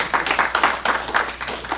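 An audience at a Korean history lecture claps in a short burst, several hands striking in close, uneven rhythm, fairly near and loud.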